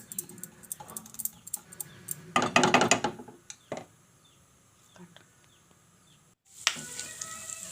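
Carrots deep frying in hot oil for carrot halwa give off a close crackling sizzle, with a loud bubbling burst midway and another surge near the end, between quieter stretches.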